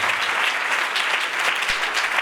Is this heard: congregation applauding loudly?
yes